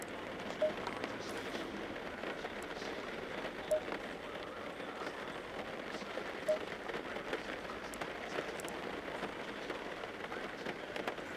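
Steady rain in the Assetto Corsa Competizione racing game at Silverstone, a soft continuous hiss of falling drops with a few faint ticks, heard alone at low level without engine roar or talk.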